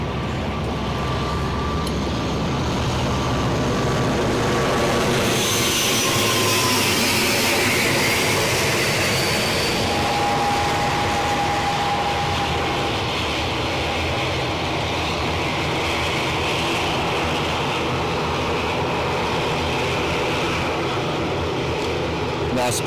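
Aer Lingus airliners arrive and depart at Newcastle airport, a loud sustained jet engine roar swelling and fading over a long stretch, heard from outdoors with steady background rumble and a person talking over it.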